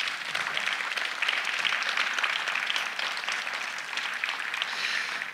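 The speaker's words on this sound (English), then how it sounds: "Let's give them all a big round of applause" A crowd at a building ribbon-cutting ceremony gives a big round of applause, steady dense clapping sustained for several seconds at moderate distance with no talking over it.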